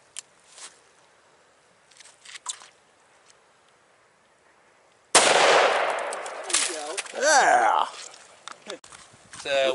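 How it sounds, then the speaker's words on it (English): A Savage 110 rifle in .270 Winchester fires a 130 grain Hornady round outdoors, one sudden loud blast after a few quiet seconds, followed by a rolling echo and people talking. "Savage 110 and 270 Winchester shooting 130 grain Hornadies."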